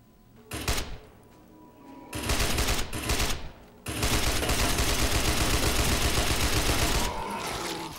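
Bursts of automatic machine gun fire in the zombie survival game State of Decay, Breakdown DLC: two short volleys, then a long sustained loud burst lasting several seconds before tapering off.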